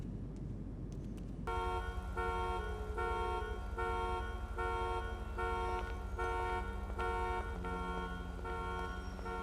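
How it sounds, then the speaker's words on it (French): Car horns honk repeatedly in city traffic inside the GTA video game, a loud, layered stream of overlapping toots right after a metro exit, with no talking. "Tu es à peine sorti du métro que ça klaxonne dans tous les sens là"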